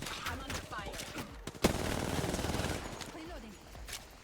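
Gunfire in the Apex Legends video game: a sharp loud shot followed by a rapid burst of automatic fire, with a voice talking over parts of it.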